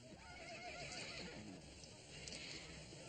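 A horse whinnies loudly in a rising, wavering call that lasts through most of the clip, with hoof clip-clop and faint background sound underneath.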